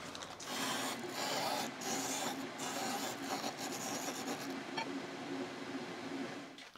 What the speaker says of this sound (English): I still have my furnace motor disc sander